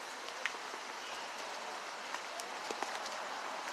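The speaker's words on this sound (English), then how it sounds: "Hurry up because the rain coming." Rain falling steadily outdoors as a continuous soft hiss, with scattered sharper drop ticks and faint distant voices.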